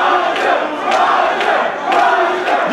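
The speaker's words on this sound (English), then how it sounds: "these Roger chants from the crowd here in Brooklyn" A wrestling crowd at an indie event in Brooklyn chants "Roger" in a steady rhythmic cadence, a dense roaring mass of voices filling the hall with regular swells.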